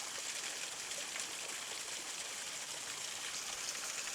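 A small waterfall spills down rocks outdoors, giving a steady, even wash of rushing water with no breaks, moderately faint and heard alone.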